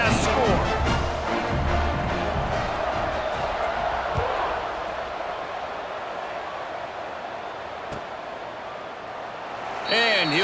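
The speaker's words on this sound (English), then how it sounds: "this crowd is buzzing after that last score" Football stadium crowd at a South Carolina vs Syracuse game buzzing after a score, a dense continuous roar of many voices with a swell at the end, under a commentator's talk.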